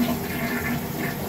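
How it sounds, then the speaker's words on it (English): A toilet flushing just after being reset on a new double-thick wax ring, a steady rushing swirl of water at moderate level, brief and continuous with no talking. "And flush the toilet."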